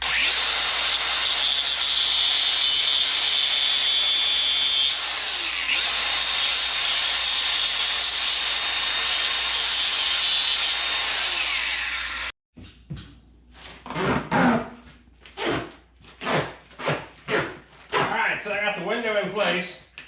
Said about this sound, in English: we're gonna trim these off to length